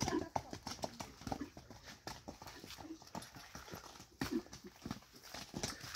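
A young horse, ridden at a walk, makes steady, quick clip-clopping hoofbeats. The sound is close and fairly quiet, with a few louder strikes.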